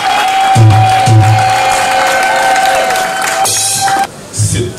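Clapping from a crowd gathered at the reopening ceremony of the Victoria Palace Hôtel, a short burst of applause mixed with cheering, then fading as a voice returns over a public address system.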